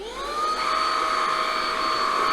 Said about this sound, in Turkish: Süpürgemi başlatıyorum.